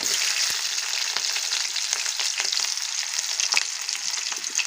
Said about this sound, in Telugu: ఆయిల్ కాగిపోయిందండి, ఉల్లిపాయలు వేసేసుకుందాం. పచ్చిమిరపకాయ ముక్కలు, ఉల్లిపాయ ముక్కలు వేసేసుకుందాం.